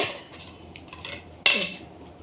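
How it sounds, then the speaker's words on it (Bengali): Newly bought ceramic plates, one white and one with red flowers, knocking and clinking together as they are handled, with soft rattles and then one sharper, louder clink close by, no talk. "এখানে 3টে প্লেট কিনেছি, তা দেখাচ্ছি"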